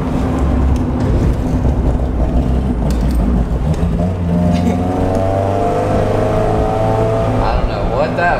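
An NA Mazda Miata, fitted with a Grip Royal wheel on a hub adapter and quick release, pulls away loud and close, its engine note climbing as it accelerates over steady road and wind noise.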